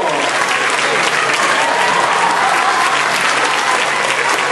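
Steady, dense audience applause fills the whole stretch, a broad wash of many hands clapping at once, loud and close with no breaks.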